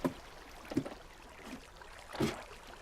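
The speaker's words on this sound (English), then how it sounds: "you can hear the dispensers firing" Water dispensers fire and flow in a Minecraft-style tower build, a steady watery wash with soft splashing bursts, moderately faint and heard alone.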